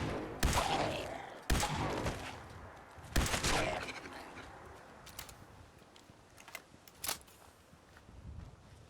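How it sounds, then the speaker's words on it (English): Gunfire at ghouls in Fallout 4: several loud, separate shots spaced about a second apart, then fainter scattered bangs and impacts fading into quieter background. "Using all of my ammo on these ghouls."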